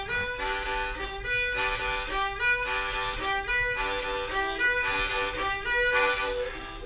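A harmonica plays a fox chase vamp, alternating hole 3 blow and draw with tongue-blocked chords, a bright repeating pulsing pattern close and alone.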